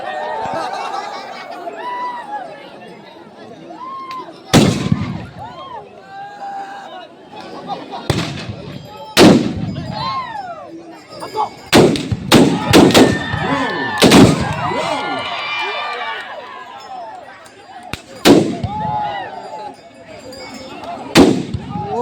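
Loud gunshots ring out one after another, each a sharp crack, at uneven intervals over several seconds during a shooting performance, with voices chattering and exclaiming between the shots.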